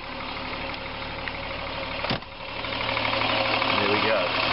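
A 1977 Triumph 2000TC engine idles just after a cold start, a steady mid-pitched rumble with slight knocking, one sharp click partway through, then the idle grows a little louder; a person talks over it.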